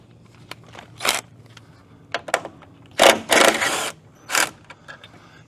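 A hand ratchet works loose 10 millimeter bolts on a vehicle grille, giving several short clicking bursts in an irregular rhythm, close and fairly loud.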